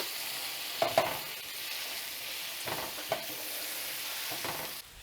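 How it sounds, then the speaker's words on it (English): Sliced mushrooms fry in melting butter in a pan and get stirred, a soft continuous sizzle broken by a few scraping strokes and light knocks of the spoon. "we're going to add some sliced mushrooms to the pan. We're going to give that all a big stir to incorporate it while that butter melts."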